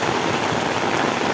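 Heavy rain pouring down in a village, a loud dense hiss of drops hitting surfaces, steady and unbroken throughout with no voices.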